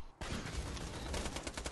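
Rapid automatic gunfire in the shooter game Borderlands 2, a dense, loud burst that starts abruptly and continues steadily for well over a second.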